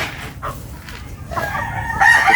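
Chickens cluck close by while a rooster crows loudly toward the end, the calls rising over a low rumble of background noise.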